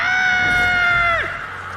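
A woman in a film lets out one long, piercing high-pitched scream, loud and close, that holds steady before dropping and breaking off, with faint background noise behind.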